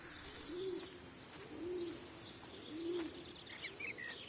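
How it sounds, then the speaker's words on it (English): Owls hoot in dark woods in the game Everybody's Gone to Rapture, three soft, evenly spaced low calls over quiet night ambience, with faint chirps near the end. "I'm hearing owls?"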